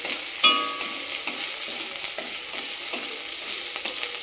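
Ginger dropped into a hot frying pan sizzles while a spoon stirs and scrapes, giving an opening clatter followed by a continuous crackle with repeated stirring knocks.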